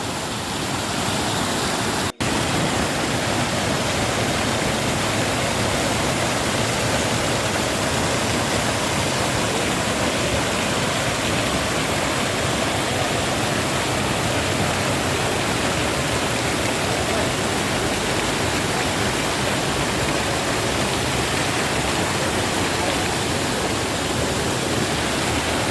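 Dudhsagar waterfall in Goa, seen from a bridge, produces a constant loud broadband roar of falling water that stays steady and unbroken throughout.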